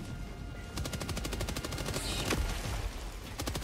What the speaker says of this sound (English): That's my autocannon.